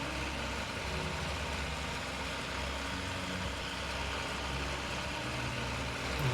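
A tractor engine idles and rumbles steadily in the off-road driving game MudRunner/SnowRunner, a low, even drone that holds constant throughout with no voices.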